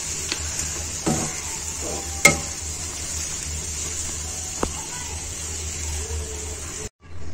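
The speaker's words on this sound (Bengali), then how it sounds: "এখন দিয়ে দিব সেদ্ধ করা শাক। সবগুলো এখন একত্রে মিশিয়ে নিব।" Boiled helencha greens are stirred into browned ingredients in a frying pan, giving a steady low sizzle with occasional sharp clinks of a spatula against the pan.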